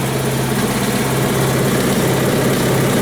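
A Westwood T1200 garden tractor engine runs steadily with a continuous low rumble and vibration, loud and close, without speech.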